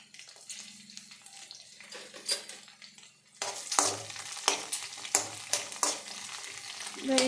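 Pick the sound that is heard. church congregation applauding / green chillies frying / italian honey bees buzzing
green chillies frying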